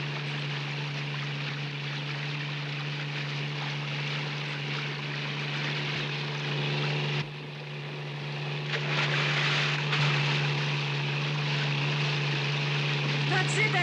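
A motorboat engine drones steadily at sea south of Rocky Shoals, a constant low hum with wind and water rush layered over it, while voices speak over the noise.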